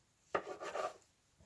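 Cinnamon rolls made with pecans, raisins and self-rising yeast dough set into a baking pan, a single short scuffing and rubbing of dough against metal, close and fairly soft, with no talk.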